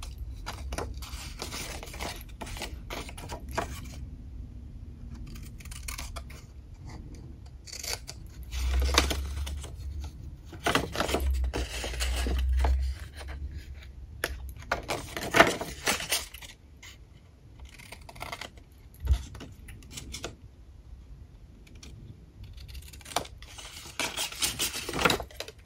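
Scissors snip and bevel the four paper tabs of a handmade Mother's Day gift box, giving light, irregular clicks and scrapes of blades on paper with faint thuds, in quiet surroundings and without talk.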